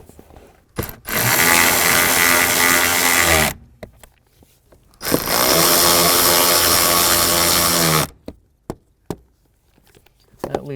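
Power tool driving and tightening blower motor screws on a 2007-2013 Acura MDX, two sustained loud whirring bursts of about three seconds each, separated by brief clicks and handling noises.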